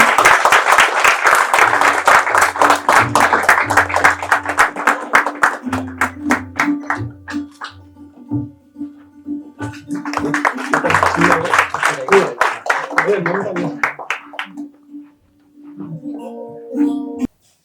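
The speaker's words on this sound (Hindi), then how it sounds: "तालियों से हम इस पुस्तक का स्वागत करते हैं" A hall audience claps in welcome at a Hindi book launch ceremony, dense applause at first that thins into scattered claps, then swells again before fading, with a voice speaking over parts of it.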